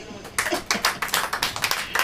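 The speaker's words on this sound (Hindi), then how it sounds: "ताली हो जाइए।" Congregation at a Hindi-language church service claps in a steady rhythm, a roomful of hands striking together in close, bright bursts after a brief pause, with faint voices underneath.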